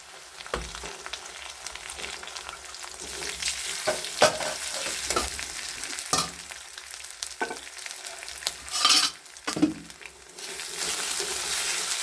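Ginger garlic paste frying with lightly browned onions in a pan for a home-style chicken curry, a steady sizzle broken by scraping stirs and bursts of spoon clatter, close and alone.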